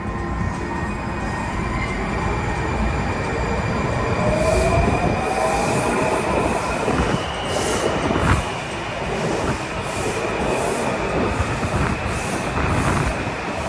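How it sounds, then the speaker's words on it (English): A Washington DC Metro 3000 series railcar, Breda-built and rebuilt by Alstom, runs steadily with traction motors whining and rising in pitch, wheels rumbling and squealing on the rails, loud and continuous throughout. "new traction motors that sound like"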